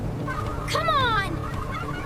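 Chickens on a farm squawk and cackle in a short loud burst of rising, honking calls amid a busy outdoor background.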